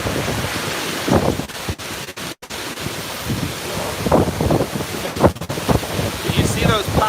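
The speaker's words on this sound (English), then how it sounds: "this is hurricane strength wind and rain." Hurricane-strength wind and rain from Hurricane Zeta buffet a microphone outdoors, with loud gusty roaring and rumbling bursts that come and go in heavy waves and brief dropouts.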